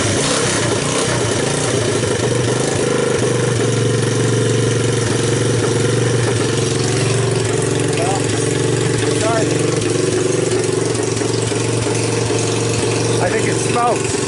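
A long-neglected Honda ATC 200X ATV engine runs roughly and continuously, a loud, uneven mid-pitched drone with small surges, close by throughout.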